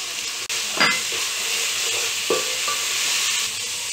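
Onion, ginger and garlic frying with spices in a pan for mutton khichdi, a constant bright sizzle close by with a couple of soft stirring knocks.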